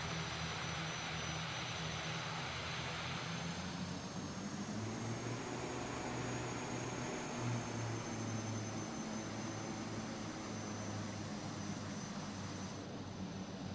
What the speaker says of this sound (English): I like flying that airplane